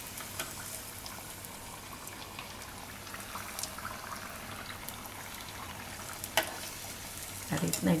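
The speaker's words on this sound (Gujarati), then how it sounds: "ફૂલ ગેસ રાખીને જ આપણે એને તળી લેવાના છે" Samosas made from leftover roti deep-fry in hot oil over full gas, giving a soft, steady sizzle and bubbling throughout, with a brief clatter near the end.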